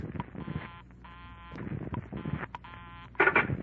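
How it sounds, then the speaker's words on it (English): A telephone dial is worked in short bursts of buzzy, tonal pulses separated by brief pauses, close and clear, with a slightly louder burst at the end and no talking. "I held off dialing the last number on my phone until she got an answer"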